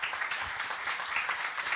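An audience at a 2017 French conference panel on international entrepreneurship applauds its speakers: dense, steady clapping from a crowd, sustained throughout without any talk over it.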